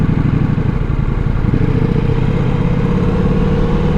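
A Ducati Multistrada V4S motorcycle engine runs steadily at a loud, close level while riding, a throbbing low drone with rattling, holding a constant pace throughout.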